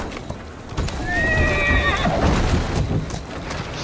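A horse in Assassin's Creed Syndicate gives a loud, close whinny with a falling tremolo. Scuffing hoof clatter and street bustle sound around it.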